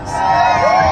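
Large crowd at a church celebration resembling a rock concert, cheering and whooping in a loud, rising swell of voices with a brief sliding shout near the end.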